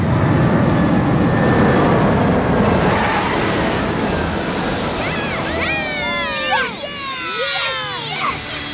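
A cartoon airplane comes in to land on a runway: a loud, steady engine roar with a long descending whine, followed by squeaky, swooping cartoon effects near the end.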